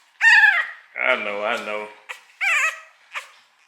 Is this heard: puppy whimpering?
yes